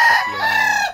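A gray rooster crows once in a breeding pen, giving a loud, close, harmonically rich call about a second long that fades at the end.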